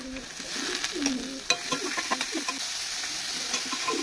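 Stir-frying eggs and carrot in a pan for fried rice: a steady sizzle with repeated scraping and clinking strokes of the spatula, close and fairly loud, no voices.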